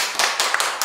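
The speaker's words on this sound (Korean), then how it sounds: "김지원 선생님께 사랑의 박수" Applause from a church concert audience, a short burst of close, rhythmic hand claps lasting under a second.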